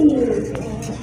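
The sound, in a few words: pair of Rajgolla pigeons cooing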